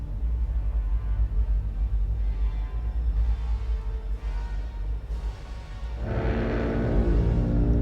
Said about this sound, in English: That looks like an advanced Azadi airship.